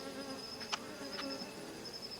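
Bees buzz steadily nearby, a thin continuous drone with a couple of brief louder swells as one passes close.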